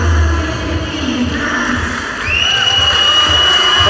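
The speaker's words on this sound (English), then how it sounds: "A knowledgeable crowd showing their appreciation here." A taekwondo Grand Prix arena crowd cheers and whoops with applause, a loud sustained roar that swells again in the second half, with a whistle-like shout cutting through.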